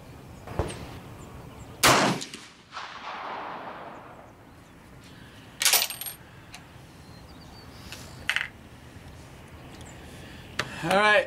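A freshly cleaned, cold rifle fires at an outdoor shooting range, with a few sharp cracks heard among quieter handling noises and ambient sound.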